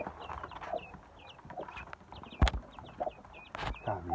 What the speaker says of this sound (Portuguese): galinha criando, galinha de Angola, cocá, capote, cada lugar tem um nome